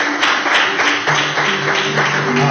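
A church congregation applauds during a Sunday morning service, a loud, dense wash of clapping hands that fills the room steadily, with faint sustained tones running beneath it.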